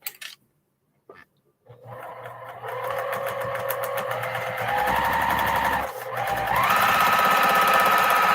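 A sewing machine starts up after a few faint clicks, then runs steadily with a fast rhythmic stitching hum that speeds up slightly while sewing quilt blocks from fabric scraps.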